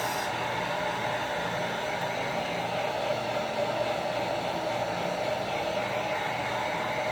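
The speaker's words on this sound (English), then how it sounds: "So I'm just going to run this heat over all of this." Heat tool blowing over a wet acrylic pour painting, a steady, continuous airy whoosh with an even motor hum, close and unbroken for the whole stretch, with no talking.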